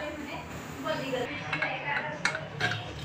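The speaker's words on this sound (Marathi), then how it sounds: "इथे आपली शिट्टी घेऊन झालेली आहे। आता आपण कुकर काढून घेऊया।" A pressure cooker being lifted off the stove after whistling, cooking green moong, with metal pot and lid clanks and clinks under a person talking.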